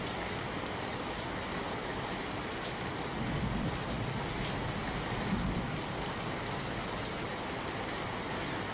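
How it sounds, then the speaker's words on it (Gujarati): Steady rain pours down on Ahmedabad city in a continuous, even hiss, with low rumbling underneath throughout. "વરસાદ વરસી રહ્યો છે"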